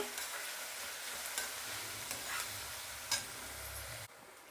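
Onions fry with curry leaves in a pan for a spicy egg curry, giving a quiet, steady sizzle with a few light clicks of a utensil before the sound drops away near the end.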